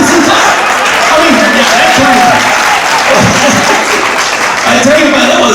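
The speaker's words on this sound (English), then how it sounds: "Okay, courtesy clap." An audience at a stand-up comedy show gives a loud, steady smattering of courtesy clapping, with some chuckles and voices mixed in.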